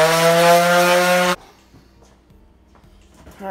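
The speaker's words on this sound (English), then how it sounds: "Let's go ahead and get to sanding." Sanding a homemade aluminum ball with a power tool: a loud, high, whining motor drone runs for over a second, then cuts off abruptly, leaving quiet scattered clicks and handling noises.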